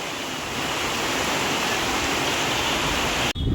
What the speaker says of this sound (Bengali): হাওয়া বৃষ্টি দুটো একসাথে।